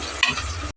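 Onions and green chillies fry in a pan, a close, steady sizzle with a brief stirring scrape, heard alone for under a second.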